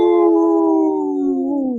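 A single sustained, gently falling wolf-like howl from people cheering on the Minnesota Timberwolves basketball team, loud and close with no other sound underneath; the voice imitates a wolf.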